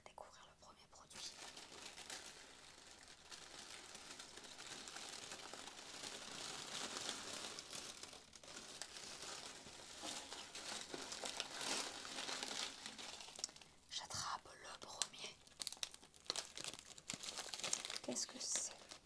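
A gourmet snack box package is opened and unwrapped, with a long stretch of close, steady crinkling and tearing of paper and plastic and a few louder rustles near the end, under soft whispering.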